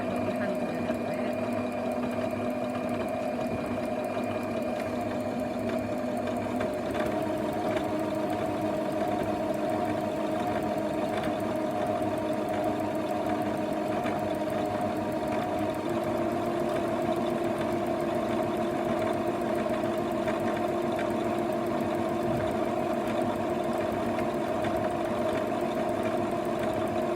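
A sewing machine runs steadily, stitching a straight line along a tote bag handle, its motor hum continuous and fairly close for the whole stretch without pause.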